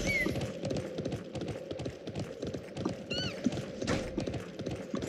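Horse hooves clip-clop in a steady rhythmic trot in a video game, moderately loud and continuous, with a brief whinny-like call in the middle and no speech.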